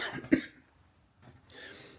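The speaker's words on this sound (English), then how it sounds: "Excuse me, I'm going to cough." A single sharp cough from a nearby adult in a quiet indoor workshop setting, followed by a short pause and a faint rustle or breath, with no talking.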